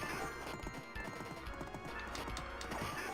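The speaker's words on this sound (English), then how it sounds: "I want that horse. Give me that horse." Horse hooves clip-clopping in a retro video game, a steady rapid rhythm of hoof beats with a neigh-like tone, fairly quiet and continuous throughout with no talking.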